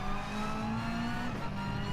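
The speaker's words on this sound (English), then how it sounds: "I'm revving here to try and swing the car." A rally car engine in Gran Turismo Sport revs hard and holds a steady, buzzing drone near at hand, with a slight pitch shift toward the end and faint tire noise beneath.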